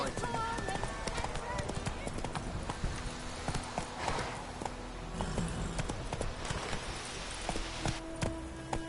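Roach the horse galloping in The Witcher 3: Wild Hunt, steady rhythmic clip-clop of hooves close by, running continuously with a neigh amid game ambience and voices talking over it.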